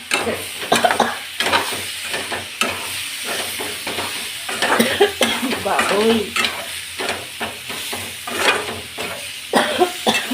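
Hot oil crackles and sizzles in bursts as a spice tempering is stirred in a pan; a voice gives a short exclamation.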